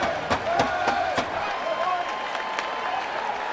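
A baseball stadium crowd at a Nationals and Brewers NL Wild Card game cheers and claps after a home run, a steady roar of applause with rhythmic clapping under a commentator talking.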